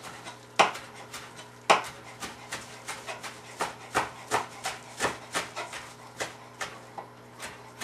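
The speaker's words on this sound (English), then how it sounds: "So give it a rough chop." A knife roughly chops fresh basil on a board in quick, uneven thuds and taps, about fifteen close strokes. They sound fairly quiet against a faint steady hum.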